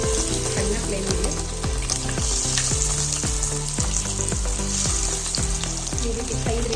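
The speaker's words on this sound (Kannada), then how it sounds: "ಈಗ ಒಂದೊಂದೇ ಲಾಲಿಪಾಪ್ ಪೀಸನ್ನು ಎಣ್ಣೆಯಲ್ಲಿ ಹಾಕೋಣ" Restaurant-style chicken lollipop pieces fry in hot oil on a low flame, producing a loud, continuous bubbling sizzle that pulses in a regular rhythm close by.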